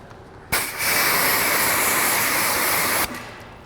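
Water hisses steadily from a hose or pressure sprayer across a car panel coated with beading protectant, a loud, even spray that starts abruptly, runs about two and a half seconds, then cuts off.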